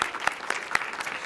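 Applause from the audience at a celebratory graduation ceremony keeps going in a steady wash, with a few louder individual claps standing out.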